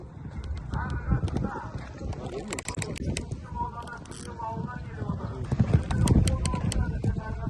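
Rapid hoofbeats of racehorses galloping close by in a 14 km race at a hippodrome in Astana, a steady drumming rhythm with voices talking over it throughout.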